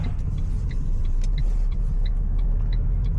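A manual car accelerating after being put in gear, a steady loud engine rumble with road noise throughout, heard from inside or close by with no talk.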